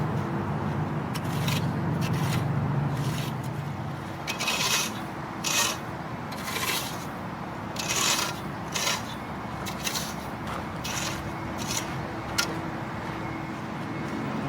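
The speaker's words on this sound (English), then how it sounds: "Next we'll rake out all the chunks that are trash so we can pull those off." A rake drags across the dirt of a baseball pitcher's mound, pulling off loose chunks in steady, gritty scraping strokes with a few sharper bursts, close by under a constant background rumble and without speech.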